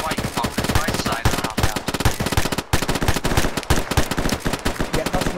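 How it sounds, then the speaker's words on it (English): Machine gun fire in the ArmA military video game, loud rapid bursts of automatic shots in a dense, repeated rhythm, close and sustained. "Sounds like they still got an MG in there somewhere."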